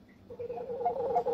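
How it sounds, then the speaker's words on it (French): A telephone rings faintly in the background of a room, a steady electronic tone that grows slightly louder and pulses over about a second, with no one speaking over it. "Il y a un téléphone qui sonne chez toi là-bas."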